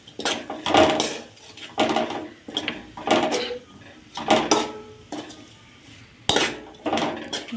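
Fried okra being stirred into a spiced tempering in a pan gives repeated bursts of metallic scraping and clinking, in a loose rhythm of about six strokes with short pauses between them.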